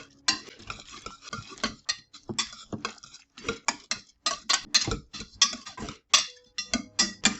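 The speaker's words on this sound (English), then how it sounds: "we are going to stir everything together" Rapid, irregular scraping and clinking of a utensil against a bowl as a thick sweet potato and egg mixture is stirred briskly, with no talking.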